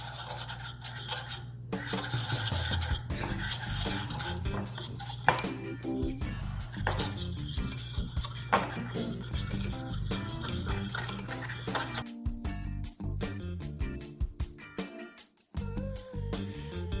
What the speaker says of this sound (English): Now we're gonna mix all the ingredients.